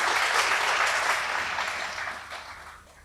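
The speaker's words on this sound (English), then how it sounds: "Can we give them another round of applause?" Dense applause from a conference audience after a session on social innovation, strong at first and then gradually fading toward the end.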